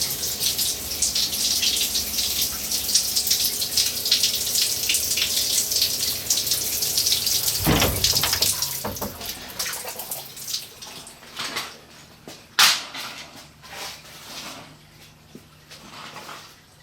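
Coolant runs through three hoses on the tank of a Tormach CNC mill, a steady close rush of splashing liquid for several seconds that thins into trickles and drips, with a clatter or two near the end.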